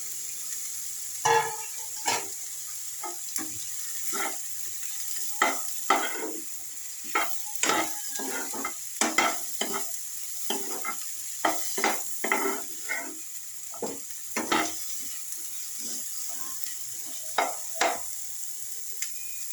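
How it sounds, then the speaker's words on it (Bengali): Capsicum frying in butter with onions in a pan, stirred with repeated scraping strokes over a steady close sizzle, no talking. "মাখনের সঙ্গে পেঁয়াজ দিলে একটা অন্য স্মেল আসে খুব সুন্দর একটা গন্ধ ছাড়ছে এবারে আমি এই ক্যাপসিকামগুলো দিয়ে দিলাম"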